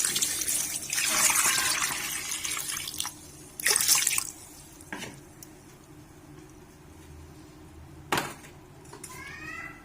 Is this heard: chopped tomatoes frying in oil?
no